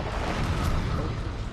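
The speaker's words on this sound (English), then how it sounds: "Ow, but there are explosions." A deep, rumbling blast sounds inside a mine in the video game Demon's Souls. It is a loud, sustained roar that fills the whole moment, with a brief sharper crack near the end.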